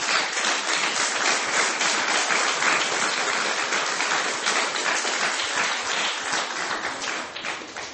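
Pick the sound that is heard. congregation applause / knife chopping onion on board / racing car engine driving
congregation applause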